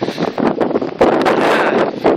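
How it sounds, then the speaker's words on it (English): Strong gusts of wind buffet the microphone in loud, uneven bursts, roaring and rumbling up close with no voices. "it's like really windy out today"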